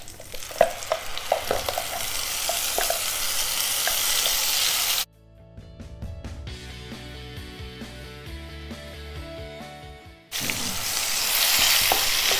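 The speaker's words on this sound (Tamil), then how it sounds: "இப்போ இதை வந்து தாளிக்கிறதுக்கு போட போகிறோம்." Loud sizzling and frying with stirring as a ground paste with cumin is tempered in oil for dhariwala sagu, interrupted midway by a few seconds of quieter clinking and ringing tones before the sizzle returns.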